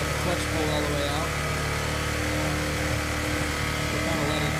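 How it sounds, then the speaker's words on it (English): A Yamaha Bear Tracker 250 ATV engine runs steadily at fairly high revs, a loud continuous close drone with little change throughout. "Revs pretty high when it's clutch pulled all the way out."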